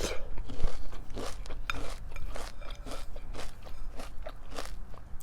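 Pumpkin-flavored crunchy cereal is chewed close to the microphone in repeated sharp crunches and bites, a steady irregular rhythm of crackling chews with no talking.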